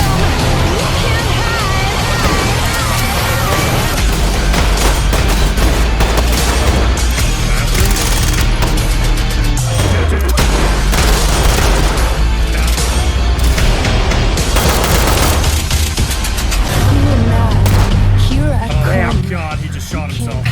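Gunfire and explosions in a tactical shooter game, rapid shots and deep booms packed into a loud, dense mix, largely masked by continuous music with a singing voice and talk throughout.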